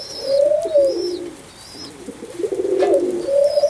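Oriental roller pigeons cooing in a breeding loft, several soft rolling coos overlapping at close range alongside a few faint higher chirps, with no voices.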